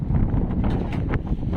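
A strong northeast monsoon wind buffets a boat at sea, with loud gusty rumble and microphone wind noise filling the short stretch.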